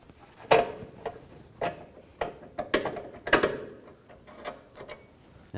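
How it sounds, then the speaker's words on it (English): A ratchet wrench with an 18mm socket works a control arm bolt on a 2013-17 Nissan Sentra, giving sharp irregular clicks and short mechanical ratcheting bursts, close and moderately loud. "I'll use a 18mm wrench on the nut, 18mm socket on the bolt."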